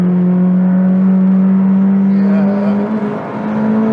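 A McLaren 620R pulls hard under acceleration, its engine note loud and steady close by, rising slightly toward the end, with a brief spoken word over it.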